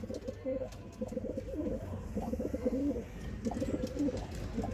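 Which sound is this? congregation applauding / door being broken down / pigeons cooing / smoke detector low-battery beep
pigeons cooing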